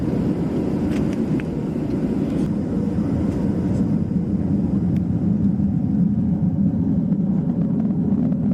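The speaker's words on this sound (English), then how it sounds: "Every pilot thinks they're the top dog until an F-16 fighter jet pulls up." An F-16 fighter jet flying, heard as a steady, loud, broadband roar that rumbles evenly throughout with no voices.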